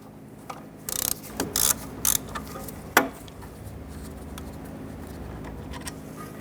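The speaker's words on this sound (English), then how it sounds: "You're going to use our socket and ratchet." Ratchet and socket working a brake caliper bolt loose on a 1994-2004 Ford Mustang front brake job, a few short clicking bursts and one sharper crack over a steady low background hum.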